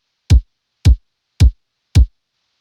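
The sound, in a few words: layered synthwave kick drums: low kick, mid punch kick, hi-hat top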